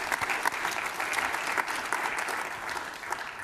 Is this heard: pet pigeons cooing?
no